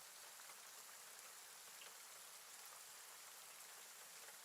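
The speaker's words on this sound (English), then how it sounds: "You feel the chill of the wind and the rain battering against your face." Steady rain pattering on a surface, soft and continuous throughout with no wind gusts clearly standing out, faint and even.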